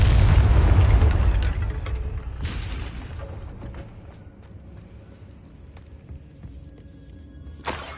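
A Confringo explosion spell in a Harry Potter video game, a loud booming blast that opens the clip and decays with rumble, followed by a second burst and a sharp crack near the end.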